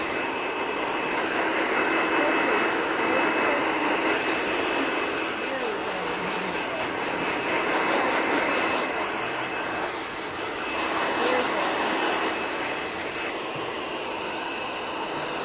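A hair dryer blows steadily while hair is blow-dried during a salon treatment, a loud continuous broadband whoosh that holds nearly constant for the full stretch, briefly dipping and then resuming, with no voices.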